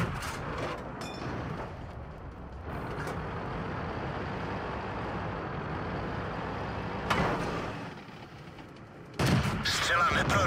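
World of Tanks cannon fire from a Cromwell tank, heard over a steady engine rumble with two heavy, loud blasts near the end, while a crew voice speaks in the game.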